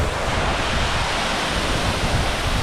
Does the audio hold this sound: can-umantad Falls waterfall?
yes